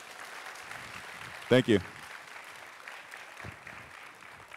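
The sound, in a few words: audience applause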